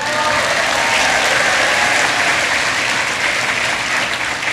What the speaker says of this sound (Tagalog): Salamat sa kapirasong palakpak.